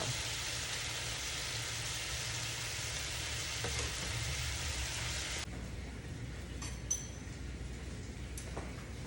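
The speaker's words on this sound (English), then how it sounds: "let it sit in there and saute for about another 45 seconds or so" Shrimp sautéing in a pan with coconut flavoring give off a steady, loud sizzle and fry that runs without a break, easing slightly quieter partway through, with a few faint clinks and no voices.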